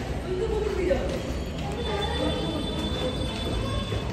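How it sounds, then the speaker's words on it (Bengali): Train passing near a railway level crossing, a continuous loud rumble with rail and wheel noise under steady talk and street bustle. "ওইদিকে ট্রেন আসছে"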